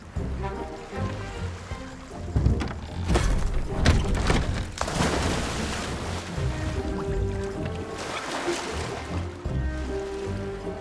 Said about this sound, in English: What was that loud splashing sound?